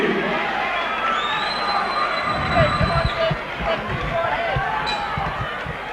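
A home crowd at a professional boxing match roars steadily, a loud, dense wash of cheering and shouting that never lets up, with thumps and a commentator's voice over it.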